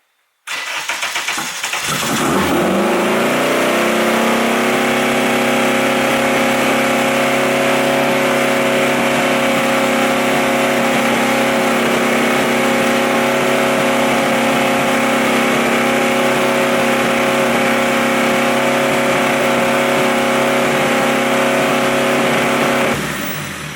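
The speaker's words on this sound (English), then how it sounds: "I'll go ahead and start this thing up and listen to how high this thing revs." A Honda engine cranks and catches, then holds at a loud, high, sustained idle around 3,500 to 4,000 RPM, droning steadily without dropping, close by and unaccompanied by speech.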